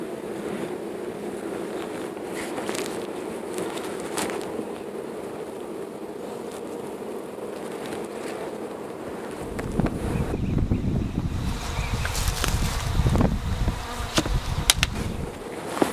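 A package of Carniolan honey bees buzzing in a hive, a dense close hum of many wings. Handling noises and wind rumble grow louder in the second half.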